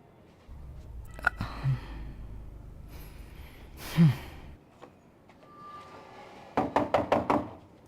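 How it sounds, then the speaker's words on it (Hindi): Knuckles rap on a door in a domestic scene, a quick run of five or six sharp, close knocks near the end, preceded by scattered thumps and a sigh. "मैं कब से दरवाजा खटखटा रहा था,"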